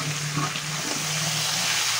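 Mutton with ginger and garlic sautéing in its own juices and fat in a pan, giving a steady, soft sizzle throughout with no talking.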